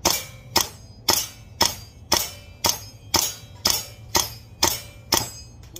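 A WE M4 gas blowback airsoft rifle fires about a dozen sharp, evenly spaced shots, each a crisp snap with a short ring-off, close and loud with no talk.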